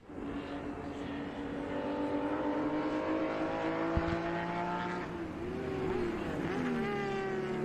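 Vintage race cars in an SVRA Group 8 and Group 12B feature race at Virginia International Raceway, a dense layered roar of engines as the field spreads out, with one car's pitch climbing and shifting as it passes.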